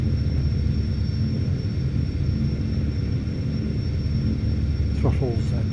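Aircraft engines idle in a flight simulator game, a steady low rumble and drone holding evenly throughout, with a brief faint chirp near the end.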